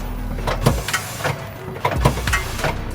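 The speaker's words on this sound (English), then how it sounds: "here is the date printer to print in the manufacturing date on the bag" A date printer on a steeped coffee bag packing machine stamps in a steady rhythm, repeated mechanical clacks and whooshes cycling roughly every second over continuous machine noise, close and fairly loud.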